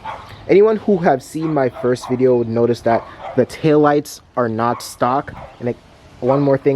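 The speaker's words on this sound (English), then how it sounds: "I think one of my neighbor's dogs are going off." Neighborhood dogs bark and yip intermittently in the background, partly covered by someone talking steadily close up.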